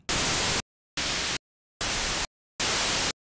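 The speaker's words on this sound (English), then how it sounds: "this is our 2600 white noise" Four even bursts of harsh, full-band white noise from a 2600-style synth noise source in the Serum synthesizer, each about half a second long and separated by silent gaps, loud and steady.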